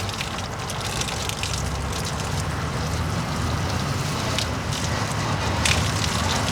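Steady rushing water pours continuously from a push-button shower spraying close by, a dense, even hiss with no talking.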